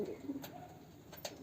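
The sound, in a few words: pigeon cooing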